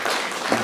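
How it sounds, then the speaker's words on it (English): Brief burst of audience applause at a digital innovation and sustainability workshop, a short steady patter of clapping hands heard alone without speech. "Another round of applause for Dr."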